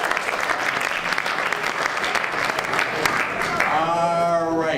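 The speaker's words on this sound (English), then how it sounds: "let's give him a round of applause" Loud, sustained applause fills the room for Bob Block at a college elevator pitch competition, thick and even across several seconds, with a voice starting to talk over it toward the end.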